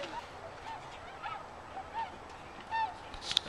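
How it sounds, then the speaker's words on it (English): Several geese honk outdoors near a deck, short nasal calls scattered across a few seconds over quiet background, some closer and louder toward the end. "Where's the geese?"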